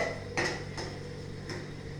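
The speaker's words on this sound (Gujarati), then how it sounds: "હવે આપણે એકવાર પાસ્તામાં જરા ચમચો ફેરવી દઈએ." A spoon turns pasta in red sauce inside a pan, making three faint, light clinks against the pan over a low background hum.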